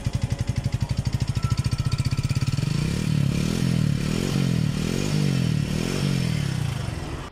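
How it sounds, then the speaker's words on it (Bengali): A used motorcycle with its original, never-opened engine runs close by, starting with a rapid, even thumping idle, then swelling into a louder, rougher droning rev that holds steady with clattering mechanical noise; no one speaks. "তো বাইকটা আমি আপনাদেরকে সাউন্ডটা শোনাই দিচ্ছি।"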